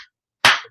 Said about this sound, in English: There's your clap.